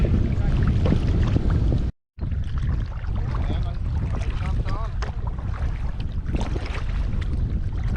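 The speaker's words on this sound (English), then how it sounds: "We're going downstream, but the wind is crazy." Strong wind while kayaking downstream on a river in the Delaware Water Gap roars continuously into the microphone with a brief dropout, and faint water and paddle noise lie underneath, with no clear speech.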